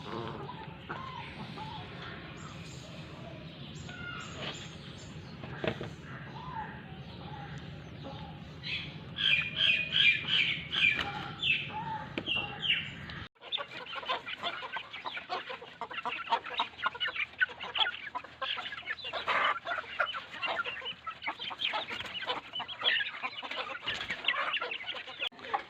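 Chickens in a domestic flock are fed small balls of dough, their clucks, chirps and squawks close and overlapping, growing busier and more agitated partway through.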